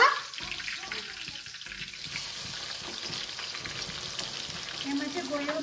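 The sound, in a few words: onions frying in ghee for chicken biryani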